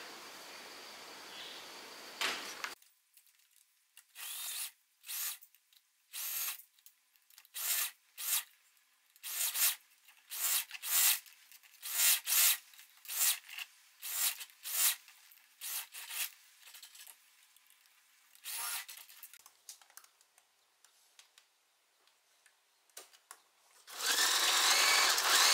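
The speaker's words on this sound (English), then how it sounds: "And then I'm also going to sew the sides here down from here to here." A sewing machine stitching down the sides of a mini skirt, running in short rapid bursts separated by brief pauses, close and fairly loud, with a longer run near the end and quiet handling noise between.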